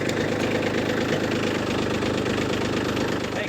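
A Kubota B2601 compact tractor engine idles steadily close by, a continuous low diesel rumble with a fine rapid knocking pulse throughout and no voices.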